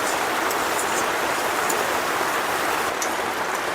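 Chopped onion and green chili, added over black cumin seeds, hit hot oil and sizzle. The frying is loud and close, a dense steady crackle like rain that holds without a break, with no speech.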